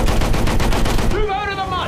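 Rapid machine gun fire in a tank battle video game rattles loud and close for about a second, then cuts off, leaving a wavering tonal whine that rises and falls.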